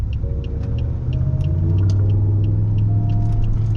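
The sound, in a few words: Porsche car passing by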